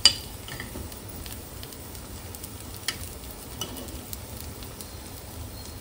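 Appe dumplings sizzle softly in an appe pan over a gas flame, a steady low frying hiss broken by a sharp clink at the start and a few light metal taps as they are turned.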